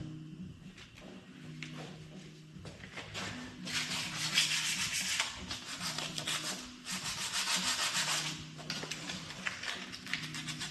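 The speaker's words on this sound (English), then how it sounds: "Now I'm gonna start hand sanding the crevices" By hand, sandpaper rubs back and forth in the crevices of a quad's frame, up close in repeated scratchy strokes with short pauses between bursts.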